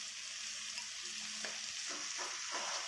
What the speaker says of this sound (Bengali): এগুলোকে ভালো করে নাড়াচাড়া করে নিতে হবে